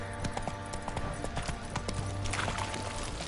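The horse Roach's hooves clip-clop at a steady walking pace in The Witcher 3 video game, faint and rhythmic over a dense background of game ambience.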